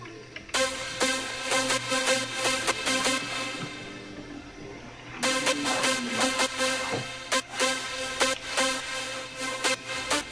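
Music processed with Fruity Reeverb 2 at a wide room size, dense percussive beats and tones spreading into a broad reverb wash, a brief drop near the middle before the pattern returns, with no talk.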